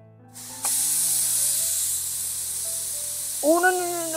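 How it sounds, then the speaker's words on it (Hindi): A pressure cooker boiling potatoes in a home kitchen lets out a steady, loud hiss of escaping steam. A low hum sits beneath it, and a brief voice cuts in near the end. "सीटी दे रहा है कुकर भी,"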